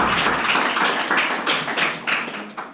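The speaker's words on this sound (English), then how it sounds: "please, a round of applause, and the stage is yours" A small room of people claps in fairly steady applause, close and moderately loud, rising and falling over a few seconds before tapering off.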